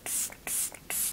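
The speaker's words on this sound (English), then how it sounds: "I'm going to spray this all over." Three quick hissing pumps of Beauty Crop Glow Milk Mist setting spray misted onto a face, each burst short, close and crisp, evenly spaced with brief pauses between them.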